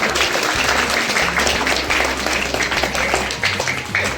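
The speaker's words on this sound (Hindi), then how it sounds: "एक बार इन सभी बच्चों के लिए जोरदार तालियां" Loud, dense applause from a large audience for prize-winning students at an annual results event, continuous and sustained throughout, with a faint voice underneath.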